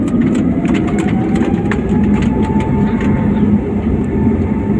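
A passenger airplane accelerates down the runway for takeoff at Kochi International Airport, heard from inside as a loud, steady engine roar with a faint rising whine, no talking.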